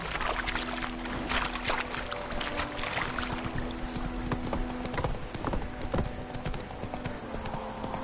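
Horse hooves gallop in a steady, rapid clip-clop rhythm in the Witcher 3 video game, close and clear with faint background sound and no talk.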